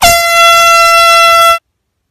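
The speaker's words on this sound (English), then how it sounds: "Air horn prank." A loud air horn blasts once as a prank, a single sustained honk lasting about a second and a half before cutting off abruptly into silence.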